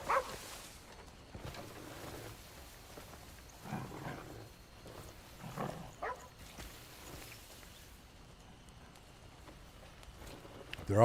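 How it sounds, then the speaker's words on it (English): Dogs in the video game Crimson Desert give scattered barks and soft whimpers at moderate loudness, spaced out across a quiet background, with a few louder yelps. "Check out my dogs."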